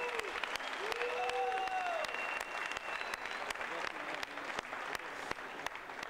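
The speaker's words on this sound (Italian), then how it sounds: "Un grande applauso per entrambi questi atleti che hanno combattuto per la cintura" A crowd applauds the fighters at a Venator FC MMA title bout, steady clapping filling the arena while an announcer talks over it.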